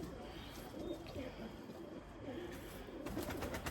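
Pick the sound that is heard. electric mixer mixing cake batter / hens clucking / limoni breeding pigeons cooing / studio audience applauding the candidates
limoni breeding pigeons cooing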